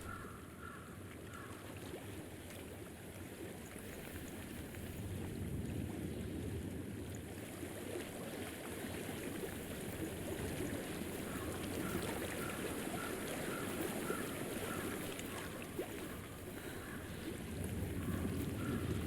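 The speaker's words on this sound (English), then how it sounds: "I hear water." Water flowing steadily in the video game Hellblade: Senua's Sacrifice, a continuous rushing wash with a faint breezy hiss, rising slightly and holding at a moderate level, with no voices.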